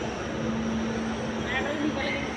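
A Delhi metro train pulls out of the station, its steady rumble mixed with platform hubbub. A faint tone and a few high squeals rise over the dense noise.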